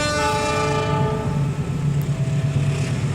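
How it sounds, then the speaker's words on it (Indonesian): A train rolls steadily along the rails with a continuous rumbling drone and a horn-like tonal hum, alone and close for a few seconds. "Roda kereta berderak-derak menggilas rel"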